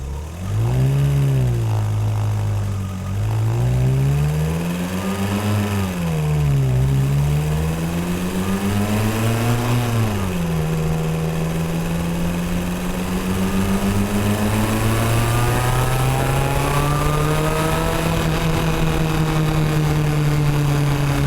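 A VW Polo G40 engine runs with a strong, steady hum, rising and falling through several revs early on before settling into a steady, slowly climbing drone, loud and close with no talk.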